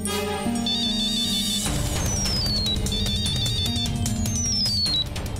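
A mobile phone ringtone plays loudly and steadily, a bright melodic trill over dense dramatic music in a room where the phone has been left behind.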